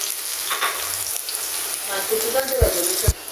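Chopped onions sizzling in a wok of hot oil, a close, continuous crackling hiss with a couple of low knocks from stirring toward the end.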